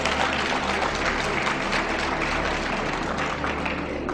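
A documentary audience claps steadily in a continuous, even wash of applause with a low background hum and no distinct voices.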